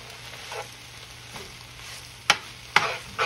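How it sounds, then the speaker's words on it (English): Spinach and garlic sauté in a skillet under a quiet, faint sizzle, broken by a few sharp clacks and scrapes of a utensil stirring near the end; no talking. "Definitely wanna get this sauteed up."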